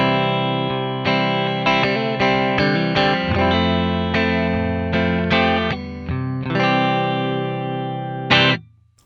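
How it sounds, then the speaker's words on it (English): A clean electric guitar plays with no effects: a sequence of distinct plucked notes and chords, close and moderately loud, with a final strum ringing out briefly before it cuts off. "So this is the non-affected tone."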